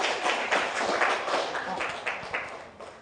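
A seminar group is applauded in a teaching session, a moderate patter of clapping hands that stays fairly steady, softens and then picks up again across the three seconds, with no voices over it.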